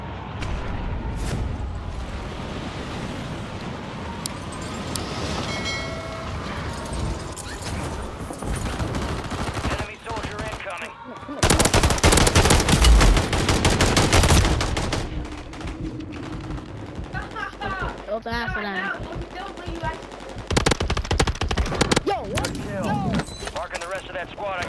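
Bursts of HRM-9 submachine gun fire in Call of Duty Warzone on Rebirth Island, rapid shots crackling over game ambience, with a loud sustained volley in the middle and scattered shots and effects around it.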